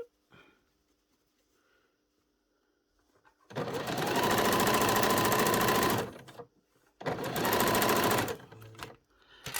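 A sewing machine runs close up, stitching the bottom hem of a school blazer in two loud, fast, steady bursts of whirring needle clatter, separated by short pauses and quiet handling.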